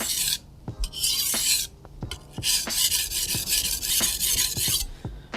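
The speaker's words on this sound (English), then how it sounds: "I'm just gonna go to the next stone. And I'm starting with stropping motions" A knife is stropped across a whetstone in long rasping strokes, each a loud gritty scrape followed by a brief pause and a light tap as the blade turns, repeating steadily and close up with no voices.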